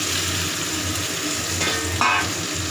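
Vegetables dropped into hot spiced oil that has been well fried down, giving a steady close sizzle with a brief louder crackling burst partway through, no voices.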